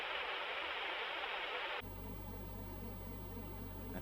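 A vintage synth plugin's simulated static fills the clip with a bright, dense hiss that abruptly shifts partway through to a duller noise bed with a low, humming undertone. It plays alone at moderate level.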